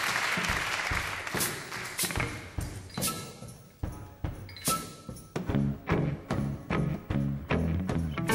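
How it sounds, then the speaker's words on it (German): Concert crowd applauding a performance, clapping that thins out and then gives way to rhythmic, punchy hits, loud and fairly close, with no talking over it. "Spontaner Applaus"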